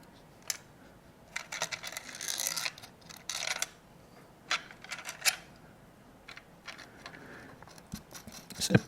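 Nuts and screws being undone to take apart a GM MDI diagnostic interface clone, giving scattered metallic clicks, scrapes and rattles of small hardware close by, in irregular bursts with quiet gaps.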